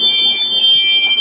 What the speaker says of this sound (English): Really sorry about my little Ring doorbell thing.